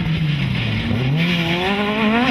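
A rally car in a circuit rally championship round brakes hard with its engine note sweeping up and down and tyres squealing, loud and continuous close by.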